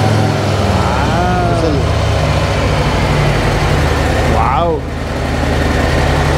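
Stock-exhaust Harley-Davidson Breakout motorcycle engine running steadily up close, a deep continuous rumble throughout, with people talking over it.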